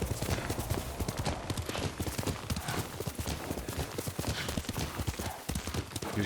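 Horse hooves clip-clopping in a steady rapid rhythm in the video game Ghost of Tsushima, close and fairly loud, with background game ambience.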